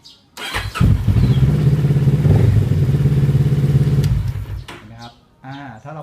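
A Kawasaki Ninja 650 motorcycle engine fitted with an alarm system cranks and catches, then idles loudly and steadily for a few seconds before cutting off, with a voice speaking briefly afterward.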